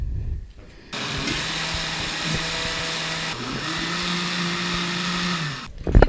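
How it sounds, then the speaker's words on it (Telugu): A mixie blends mango pulp, cream cheese, sour cream and sugar, its motor starting abruptly and whirring at a steady high pitch for about five seconds before stopping, close and loud. "cream cheese, sir cream, mango pulp, sugar అన్నీ కలిపి మిక్సీ చేసేసాము"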